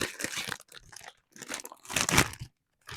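Quest protein chips being crushed for a casserole topping, loud close crunching and crinkling in several bursts separated by short pauses, with no talk.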